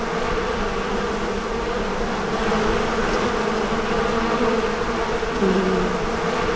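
A steady, loud bee drone from the Far Cry 4 video game hums continuously and close, with no talk over it.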